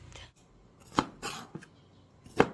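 A knife cutting kamias (bilimbi) fruit into quarters, with a few separate crisp chops against a board spaced apart, close and clear with quiet gaps between.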